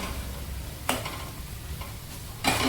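A spatula turns methi pithla in a covered pan, giving two short scraping strokes over a faint low background.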